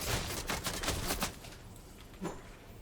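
Bursts of rapid video game gunfire rattle out in a dense volley for just over a second, followed by quieter background noise and one more faint shot.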